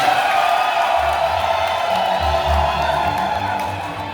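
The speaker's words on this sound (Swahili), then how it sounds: "Makofi kwake jamani." A church congregation at a Catholic thanksgiving mass claps and cheers steadily for a priest, a dense, loud, continuous wash of applause from a crowd that tapers slightly at the end.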